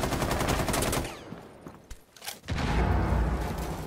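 Mounted LMG fire in Rainbow Six Siege roars in dense, rapid bursts, loud and continuous at first, dropping out briefly mid-clip before another heavy volley resumes.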